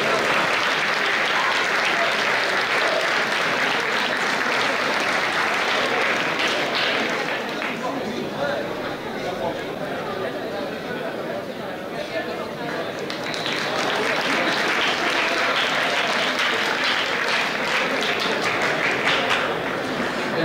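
A hall audience at a university campus festival gala applauds the tennis championship prize winner in a long, dense ovation. The clapping dips slightly midway, then swells back to full strength, with faint voices mixed in.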